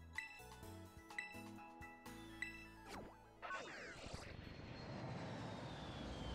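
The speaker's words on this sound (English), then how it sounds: "I love the plane sound effect." An airplane flying sound effect from the Pokémon Indigo Disk video game rises as a rushing, whooshing engine roar that swells and holds steady after game music and chimes fade out.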